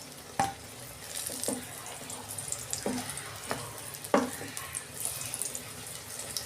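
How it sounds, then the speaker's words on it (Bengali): Pointed gourd (potol) pieces fry in hot oil, making a faint, even sizzle broken by a few sharp pops and crackles. No voices are heard. "পটলগুলো আমার ভাজা হয়ে গেছে, উল্টে পাল্টে লাল করে আমি এবার তুলে নেব"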